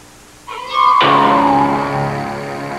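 A cat meows loudly in a drawn-out, wavering cry from a 1989 Tales from the Crypt horror film, followed by a lower, strained yowl close to the listener, with no talking.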